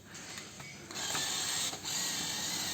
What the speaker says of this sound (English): simply put the card inside this machine